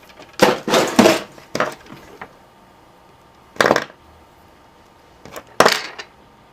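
Wire from a Vaio laptop power jack being cut and handled at close range, several loud, sharp snipping and rustling bursts in clusters separated by quiet gaps, no speech.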